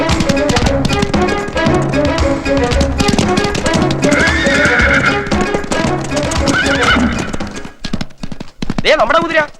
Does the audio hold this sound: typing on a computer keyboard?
no